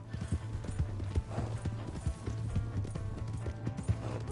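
Horse galloping in Red Dead Redemption 2, a steady rapid clip-clop of hooves on the ground with a faint whinny, moderately close, with no talk over it.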